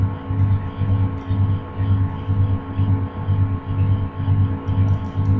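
Eggs are beaten with a spoon in a bowl, giving a steady, regular rhythmic stirring pulse, near and continuous, over a constant background hum.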